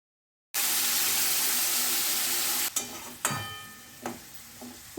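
Tangra fish hits a hot pan for a fish, potato and cauliflower curry, bursting into a sudden loud, sustained sizzle after a moment of silence, followed by a few sharp utensil knocks as the hiss fades.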